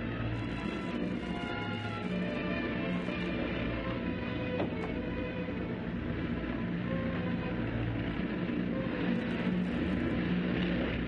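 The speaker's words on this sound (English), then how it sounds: "An aeroplane!" A propeller aeroplane in a 1936 serial, flying overhead and coming in to land, a steady droning engine hum with a buzzing, slightly wavering tone that holds at the same level for the whole stretch, with no voices.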